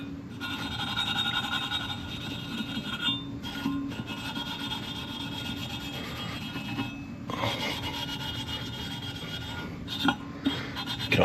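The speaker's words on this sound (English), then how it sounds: "get a little bit of that chrome cleaner on that steel wool, and then you come over here and you just give her a good scrubby" Steel wool loaded with chrome cleaner scrubbing rust off chrome trim on a Chevy C10, a steady rasping, rubbing scrape in repeated back-and-forth strokes, close and fairly quiet, with brief pauses between passes.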